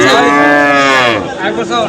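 A cow moos at a village cattle market, loud and close, in one strong bellow that drops in pitch and trails off into rustling market noise.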